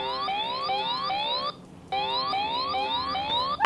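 An electric bike's anti-theft alarm wails in repeated rising sweeps, loud and close, pausing briefly before starting again, then a sharp click at the end.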